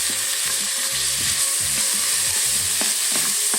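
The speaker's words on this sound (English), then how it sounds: "I love the smell of garlic and ginger cooking." Garlic and ginger fry in leftover pork fat inside an Instant Pot, giving a steady, close hiss and crackle with faint stirring and scraping knocks underneath and no voices.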